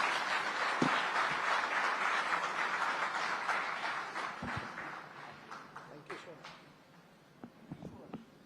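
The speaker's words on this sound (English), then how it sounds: "a big round of applause" Sustained applause from an audience at an education summit as the Chief Minister of Andhra Pradesh is introduced, steady dense clapping that slowly thins out into scattered claps toward the end, heard at a moderate distance.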